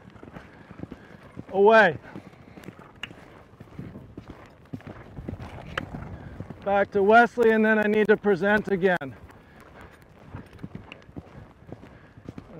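Polo horses' hooves clip-clop faintly through a passing drill under near-continuous talk, with occasional whinny-like tonal sounds.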